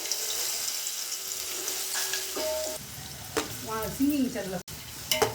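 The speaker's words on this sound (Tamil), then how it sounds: "எண்ணெய் சூடாயிடுச்சு, லவங்கப்பட்டை ஏலக்காய் சேர்த்துக்கிறேன், வெங்காயமும் சேர்த்துக்கிறேன்" Onion, cinnamon and cardamom sizzle in hot oil, a steady frying hiss with occasional stirring clinks and scrapes, while a person talks briefly over the cooking.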